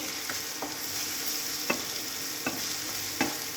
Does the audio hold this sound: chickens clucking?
no